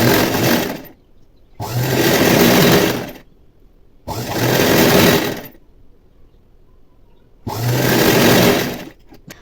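A sewing machine runs in four bursts of rapid stitching, each lasting about a second and a half with brief quiet gaps between, as it sews a folded two-inch fabric strip for a plain blouse.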